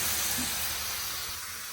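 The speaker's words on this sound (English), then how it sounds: "once you've got that sizzling sound" Mince meat sizzles in hot oil in a pan, a continuous, close, even hiss with no talk over it.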